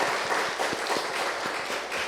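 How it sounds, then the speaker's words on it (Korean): A church congregation applauds during a Sunday worship service, steady, dense clapping from many hands filling the room at an even loudness throughout. "우리 하나님께 영광의 박수 올립니다"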